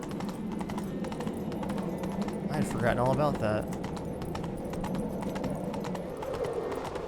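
Horse hooves clip-clop at a steady riding rhythm in The Witcher 3 video game, approaching a castle, continuous throughout with someone talking over it.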